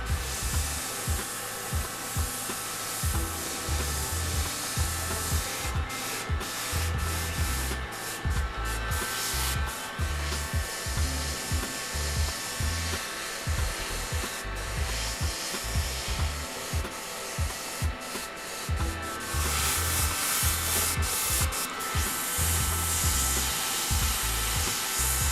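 Heater or heat gun blowing steadily over a freshly airbrushed dark blue shirt, a continuous loud breathy whoosh with rough rustling and flutter running throughout, no voices.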